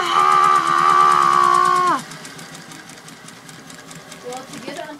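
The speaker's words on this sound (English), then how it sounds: "So she's just sewing it all together." A sewing machine runs fast and loud for about two seconds, stitching fabric, then stops abruptly, leaving quieter room sounds and a few faint voices.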